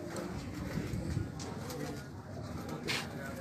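Flying and breeding pigeons at a breeder's loft in Nawabshah, Pakistan, cooing softly amid steady background noise, a few low calls, faint and somewhat distant.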